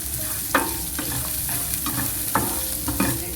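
Ingredients for a traditional Kerala upma are sautéed in a pan, making a steady close sizzle with repeated sharp scraping stirs every half second or so.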